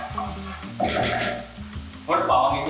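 Chopped garlic, ginger and green chilli fry in a pan for Punjabi sarson ka saag. Two sudden bursts of sizzle flare up close over a low background hum, each fading slightly before the next.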